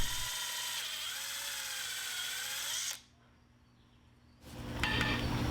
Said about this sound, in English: We'll drill a tiny hole into the 3/4 inch oak dowel for hanging in our paint box.